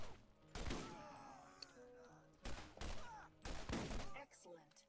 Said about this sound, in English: now I'm just shooting them in the bodies